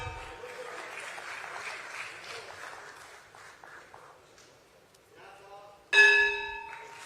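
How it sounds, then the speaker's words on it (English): Applause at the BSE listing ceremony for Jio Financial Services rises as a dense crowd clapping, then fades, and ends in a sudden loud bright bell-like chime; a voice speaks over part of it. "You can keep the claps going"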